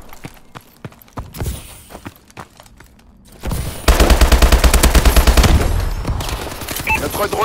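Automatic gunfire in Call of Duty Advanced Warfare: scattered footsteps and single shots give way to a loud, sustained rapid burst of machine gun fire, with further shots trailing off.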